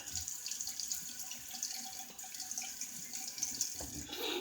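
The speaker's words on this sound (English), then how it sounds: "It's a little thick on the razor as I'm rinsing it" Tap water runs steadily into a sink while a razor is rinsed during a wet shave, a continuous close splashing hiss with small shifts near the end.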